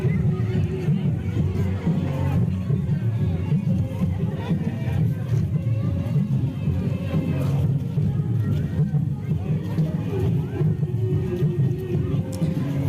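A festival crowd at a Durga Puja pandal celebration in Baripada fills the space with steady, dense babble and hubbub, and traffic rumbles low beneath the many mingled voices.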